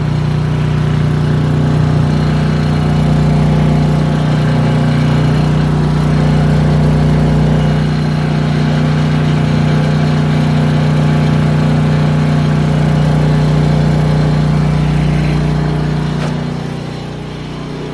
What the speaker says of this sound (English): I've been running the generator under different loads.